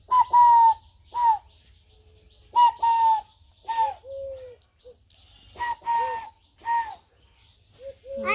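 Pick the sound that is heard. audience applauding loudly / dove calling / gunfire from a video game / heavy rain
dove calling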